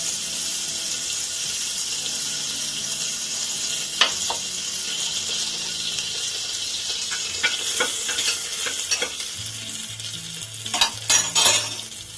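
Whole garam masala sizzles in hot oil in a pan for chicken stew, a steady close frying hiss with a few clinks and stirring scrapes, no voices.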